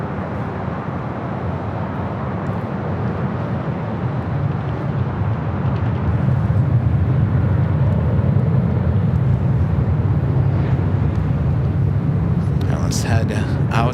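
Southwest Airlines Boeing 737-800 jet departing LAX: a steady, loud broadband engine roar that swells midway and holds, with faint brief clicks near the end and no clear talk.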